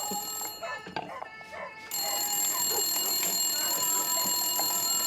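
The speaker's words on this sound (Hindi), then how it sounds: "आ गया टाटा भाभी का फोन।" A telephone rings with bright, sustained tones over a busy, noisy room, the ringing continuing steadily after a brief gap.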